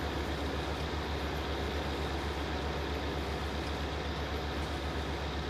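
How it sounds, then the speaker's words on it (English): In the Farming Simulator 19 video game, a train rolls through along a distant line by the trees, producing an even, unbroken low rumble that holds steady throughout without talk. "the train's coming through"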